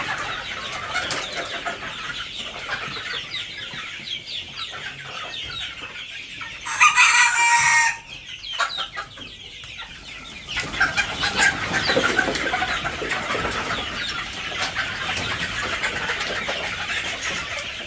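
Fayoumi chickens cluck and squawk continuously, close by, with a brief loud burst of noise partway through before the clucking resumes.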